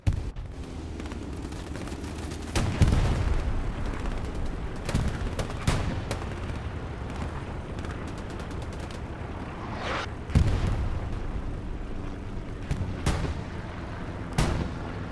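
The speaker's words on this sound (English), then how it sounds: "Tanks pummeling the little bit of cover here on Kharkov that they have." Tank cannon fire and explosions in the Hell Let Loose battle on Kharkov, with several sharp booming impacts at irregular intervals over a steady rumble of distant combat.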